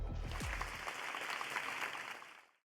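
Applause fills a banquet hall in a video game, a dense, steady wash of many clapping hands that holds for about two and a half seconds before fading quickly to silence.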